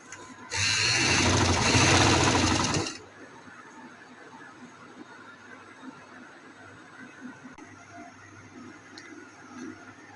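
A sewing machine stitches a dress, one seam laid over another, running in a single loud, steady burst of about two and a half seconds near the start before stopping, leaving quiet room tone.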